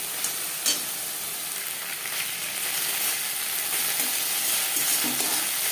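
Crushed garlic cloves frying in hot oil for kadhi pakora, a steady close sizzle and crackle running throughout with a few faint clicks and no voices.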